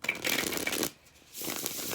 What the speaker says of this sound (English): They almost feel flimsy, but they're really great to shuffle.